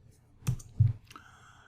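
A few quick, close clicks of computer keyboard keys as a search is typed, separated by short pauses in a quiet room.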